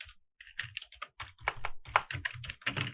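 Typing on a computer keyboard: rapid, close, irregular clicks and taps in quick bursts, heard alone.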